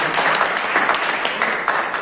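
An audience at a gurukul farewell ceremony applauds loudly, with thick, continuous clapping at close range.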